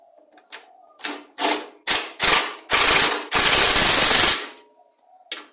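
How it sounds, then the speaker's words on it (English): A ratchet tightens the bolts on a lawn mower in a series of bursts of clicking, short at first and then longer sustained runs, loud and close with no talk. "So the bolts started, we'll just tighten those down now."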